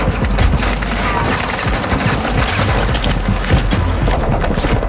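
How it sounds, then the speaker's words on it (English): Continuous loud machine gun fire in the shooter game Warzone 2, a dense, unbroken barrage of shots and impacts lasting the whole stretch, with no clear talking. "Oh, that machine gun is great, bro."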